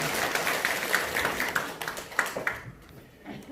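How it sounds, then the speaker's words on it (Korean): A church congregation claps together after a Sunday service, a dense burst of applause that fades out after about three seconds. "박수로 하나님께 영광 돌리겠습니다"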